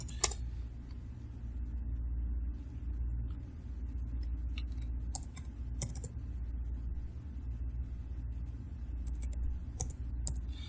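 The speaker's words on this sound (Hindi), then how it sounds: "मेरे पास एक आदमी का है तो मैं उसको टाइप करके आपको दिखाता हूं" Typing on a computer keyboard, with soft, sparse key clicks tapping at an irregular pace over a low, steady room rumble, faint and alone without talk.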